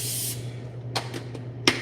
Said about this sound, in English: I'm gonna put olive oil, non-stick cooking spray on this sheet pan.